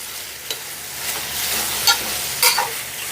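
Brinjal and moong dal curry stirred and frying in a pan, a steady soft sizzle with a few sharp scrapes of the spoon against the metal, close and continuous, no voices.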